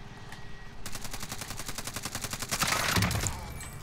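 Rapid automatic gunfire in the Warzone video game, a dense burst of repeated shots starting abruptly and continuing loud and steady for several seconds, with no talk over it.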